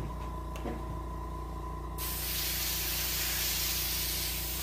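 An airbrush sprays paint onto a brown bullhead catfish taxidermy mount, a close, bright hiss that starts abruptly partway in and continues steadily over a low background hum.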